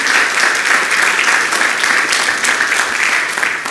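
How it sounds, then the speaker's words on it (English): Congregation applause for veterans and service members at a church gathering, loud and continuous, with a dense clapping texture that holds steady from start to finish. "Can you give a round of applause to them?"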